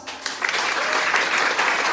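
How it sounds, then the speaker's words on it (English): Live audience at a one-minute elevator pitching event breaks into steady, dense applause that holds at an even level throughout, with a faint voice briefly audible at the start. "big applause"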